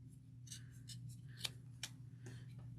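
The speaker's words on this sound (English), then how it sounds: "you can just hold your scissors at a slant" Scissors snip through fabric while making a tote bag, several quiet, separate crisp cuts at an uneven pace over a steady low hum, with no talking.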